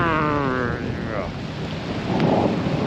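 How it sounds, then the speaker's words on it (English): Wind and rain on the Oregon coast at high tide near sunset, a loud rushing roar with gusty buffeting close to the microphone, heard alone without talk. "That wind-rain combo."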